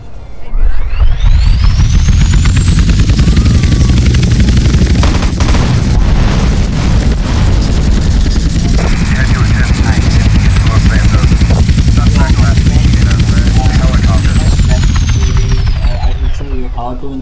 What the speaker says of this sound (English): we have successfully added a helicopter without replacing our previous helicopter